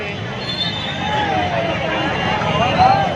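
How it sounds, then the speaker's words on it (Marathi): A dense, steady babble of a packed crowd at a 2024 dahi handi festival in Amravati, with many overlapping voices close by and a faint rumble of traffic. "देखो भाई गर्दी है बाहर की"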